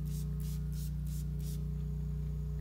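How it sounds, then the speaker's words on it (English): Several short hissing bursts from a spray bottle of soapy water aimed at the back of a sticker, fired in quick succession against a loud steady hum. "we're gonna mix a little bit of soap in the spray bottle here, and we're gonna spray the back of the sticker first"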